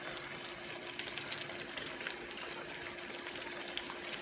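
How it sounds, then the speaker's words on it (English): Hot water is poured into a pot of curry chicken and pork with potatoes and carrots, a faint, steady splashing gush with small bubbling bursts, quiet and alone. "I got me some hot water over here going, and I'm going to add that to it."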